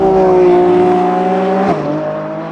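Lamborghini Revuelto V12 hybrid with rear electric motor accelerating out of a corner, a loud, close engine note rising steadily in pitch before a brief break and continuing at a slightly lower pitch, with no talk over it.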